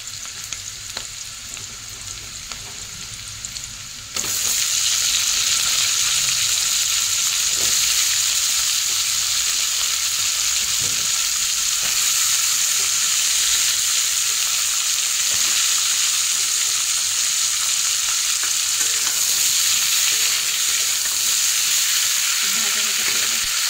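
Fried eggs with onions and pointed gourd cook in a pan, a steady close sizzle that jumps louder a few seconds in and holds, with occasional stirring clinks and no talk.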